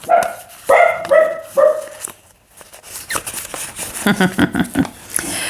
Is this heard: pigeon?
no